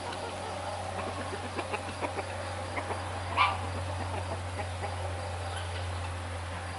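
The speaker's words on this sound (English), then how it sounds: "We've got a leghorn rooster here." A leghorn rooster on a farm lets out a few faint, short clucks spaced irregularly over a steady low hum, with one slightly louder call near the middle.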